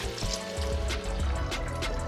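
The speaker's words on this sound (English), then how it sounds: "we're gonna deglaze the pan with our 3 cups of water" Water poured into a hot pan to deglaze it while cooking a vegan corn chowder with miso and veggie broth, a close, continuous trickling and splashing pour lasting a couple of seconds.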